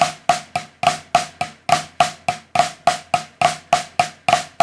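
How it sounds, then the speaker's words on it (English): Swiss Army triplet groove on a drum kit, played as a steady stream of sharp strokes with the left-hand notes soft and the right-hand notes accented loud, repeating evenly and close up with no talking. "play all my lefts really quiet, but leave my rights fairly loud."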